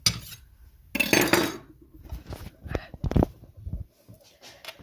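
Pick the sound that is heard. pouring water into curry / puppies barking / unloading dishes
unloading dishes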